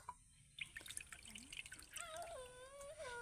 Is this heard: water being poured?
yes